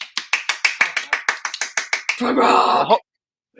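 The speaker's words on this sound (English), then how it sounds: "Golf clap for Bill." Soft, rapid golf claps, about twenty light slaps in an uneven rhythm close by, followed by a brief burst of voices and laughter before it cuts off.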